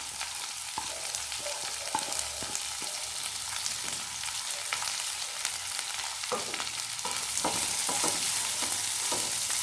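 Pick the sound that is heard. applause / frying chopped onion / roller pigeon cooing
frying chopped onion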